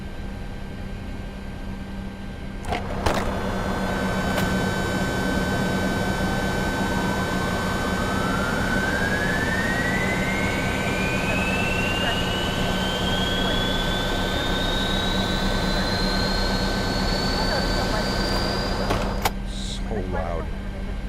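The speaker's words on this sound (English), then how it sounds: "Let's get engine selector number 2 to ground." A Boeing 737-300 jet engine starting in a flight simulator, its whine rising steadily in pitch over a constant loud drone, with clicks near the start and end.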